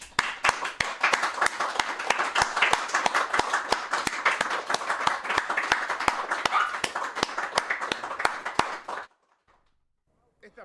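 An audience gives a long, dense round of applause, many hands clapping loudly and evenly for about nine seconds before it stops abruptly into silence.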